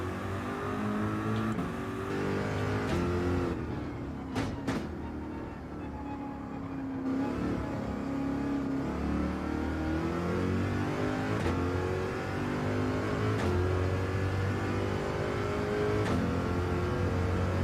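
A GR.3 race car on the Daytona road course in Gran Turismo, its engine droning and revving steadily with pitch climbing and dropping through gear changes, loud and continuous with no talk.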